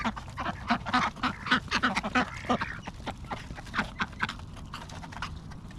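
Ducks at a five-acre pond quack in a busy, overlapping chorus, loud and close, with rapid bursts that thin out toward the end.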